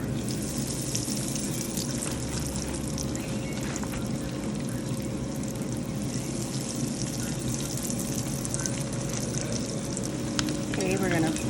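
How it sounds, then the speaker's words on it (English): Zero carb chicken tenders frying in a pan over medium-high heat, a steady even sizzle of hot oil throughout, fairly soft and continuous, with a low hum beneath. "Alrighty, let's fry these. My heat is on medium high right now."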